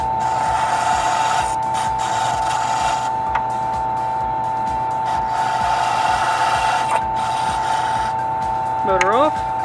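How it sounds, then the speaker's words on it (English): A key duplication machine's motor hums steadily while its deburring brush whirs against a freshly cut metal key, a constant droning buzz with light rasping, ending in a brief rising-and-falling whine as the motor shuts off. "now we just need to use the deburring brush to get any metal shavings off"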